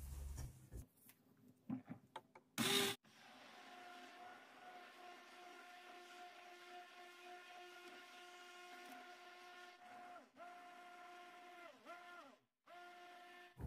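A blender or mixer whips homemade cream, its motor starting after a few clicks and a brief loud bump, then droning steadily at close range with two short dips in pitch.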